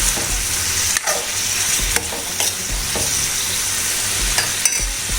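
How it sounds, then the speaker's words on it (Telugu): Tomatoes and green chilies with a little tamarind sizzle steadily in a pan for a Rayalaseema-style raw tamarind stew, with periodic clacks and scrapes of a spoon stirring, close and continuous with no talk. "మధ్య మధ్యలో కలుపుతూ వేయించుకోండి, మాడిపోకుండా."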